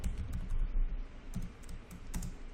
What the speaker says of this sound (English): I'm going to type netsh wlan delete profile